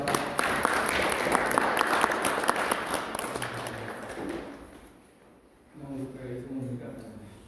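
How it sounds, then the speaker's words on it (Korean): An audience applauds at an academic Buddhist literature seminar, a steady wash of many hands clapping that fades out, followed by a voice beginning to speak. "그러면 박수로 시작하겠습니다"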